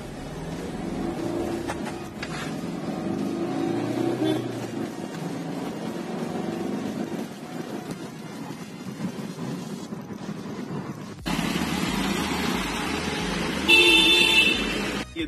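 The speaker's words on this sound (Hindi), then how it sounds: "तो चलिए दोस्तों इसका पिकअप देख लेते हैं।" A 2018 Maruti Ertiga ZDi+ seven-seater with about 20,000 km picks up speed, its engine and road noise droning steadily, then growing louder and brighter near the end, with a possible short horn toot.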